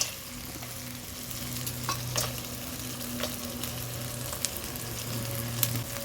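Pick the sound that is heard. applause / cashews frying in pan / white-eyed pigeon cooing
cashews frying in pan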